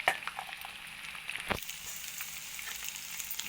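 Dry red chilies frying in oil with peanuts and garlic for a Telangana-style attukula snack, giving a soft, steady sizzle close by with a few small pops and stirring scrapes.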